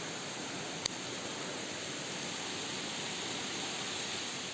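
Water pouring down a plateau waterfall in the monsoon-soaked Konkan countryside, a steady broadband rush heard from a distance and fairly faint, with one brief click partway through.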